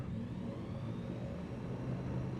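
An airplane engine at full power with brakes held in Microsoft Flight Simulator 2020, a steady loud droning hum that holds unchanged with no break.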